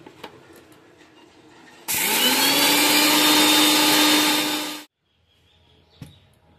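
An electric kitchen grinder pulverizes puffed rice for homemade papad, a loud steady whirring roar that starts abruptly, holds for about three seconds, then cuts off, with faint knocks before and after.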